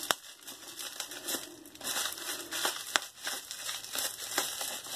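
Scissors cutting through the packaging of a shave soap bundle, a dense run of crisp snipping and crinkling plastic up close for several seconds, with no talking.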